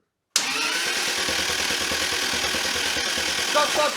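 Toyota 2JZ engine cranking over with a fuel leak at the fuel rail, a loud steady churning drone starting abruptly after a brief silence and running on unbroken, with a slight swell near the end.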